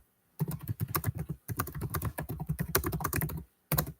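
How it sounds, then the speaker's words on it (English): Someone types rapidly on a computer keyboard nearby, a dense run of sharp key clicks in two bursts separated by short pauses, with no voices. "I'm just typing something for members."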